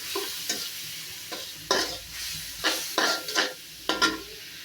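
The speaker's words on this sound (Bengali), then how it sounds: "মশলাটা কষানো হতে থাক।" Spice paste with a splash of water fries in a pan for a jatka fish curry with stems and potatoes. Close, repeated scraping stirs cut through a soft sizzle in an uneven rhythm.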